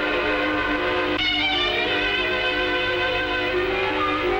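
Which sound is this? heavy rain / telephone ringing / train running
train running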